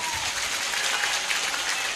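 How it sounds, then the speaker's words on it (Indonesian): A crowd at an Islamic religious gathering claps steadily, a dense wash of applause filling the whole moment without a break. "tepuk tangan dulu dong"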